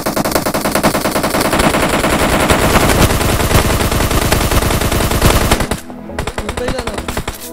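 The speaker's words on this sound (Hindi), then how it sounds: "शॉट आ रहे भाई" Sustained rapid automatic gunfire in a PUBG Mobile tournament match, loud and close, long bursts running continuously before a brief break and a few further shots.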